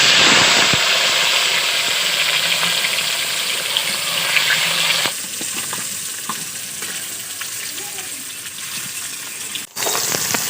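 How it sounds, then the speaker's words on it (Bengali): Boiled potatoes fry in hot oil with a loud, steady, close sizzle that eases slightly partway through, then breaks off for a moment near the end. "আলুগুলো লাল লাল করে ভেজে নেব।"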